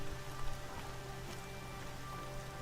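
Steady rain hisses and patters across the whole stretch in the video game Horizon Zero Dawn, a soft, even wash of drops on surfaces with a low tonal music bed underneath and no voices.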